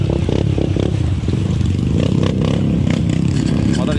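A trail motorcycle revs hard and loud nearby while pushing through a deep flooded river crossing on a muddy trail, its engine note rising and falling over clattering and splashing, with a voice briefly audible.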